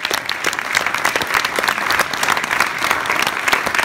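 An audience at a jazz concert claps steadily, dense and loud applause filling the room throughout.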